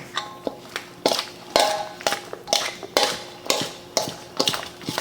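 Crab pasta salad with black pepper being stirred in a bowl, a utensil scraping and clinking in a steady rhythm of about ten close, fairly loud strokes, with no talk.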